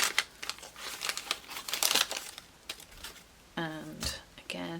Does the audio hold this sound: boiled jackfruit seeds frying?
no